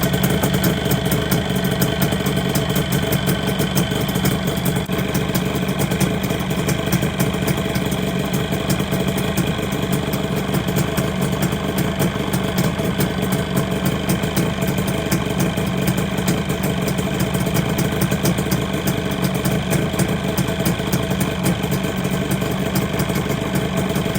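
A Yamaha RD250 motorcycle engine idles steadily and loudly at close range, a continuous even drone with no break and no talking throughout.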